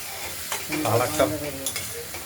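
Ground ridge gourd paste with nigella seeds and dried chilli powder goes into hot oil in a wok, bursting into a short, loud sizzle with a few spatters over about two seconds.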